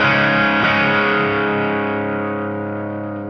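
Vintage 50's Stratocaster SSS electric guitar through distortion, a single sustained overdriven chord ringing out loudly and slowly fading over a few seconds.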